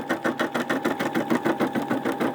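A Brother SE600 embroidery machine stitches through a quilt with batting, a steady rapid mechanical whir and needle patter heard up close at moderate loudness, running continuously without speech.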